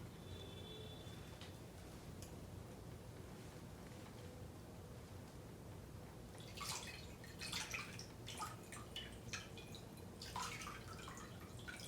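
Water splashes over hands during ritual hand washing at a Passover Seder, quiet dripping at first, then several louder bursts of pouring and splashing in the second half, fairly close over a low steady background hum.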